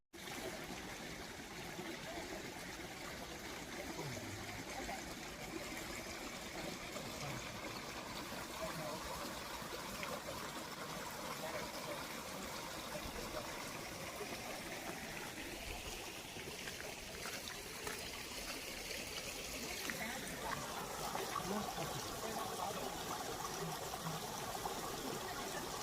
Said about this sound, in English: I just went past the creek